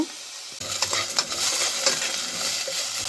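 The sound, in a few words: radish frying with lentils in a pan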